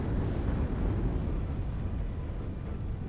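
Missiles launching and detonating in the real-time strategy game WARNO, a dense, continuous rumbling roar of explosions and rocket fire that stays loud and steady throughout.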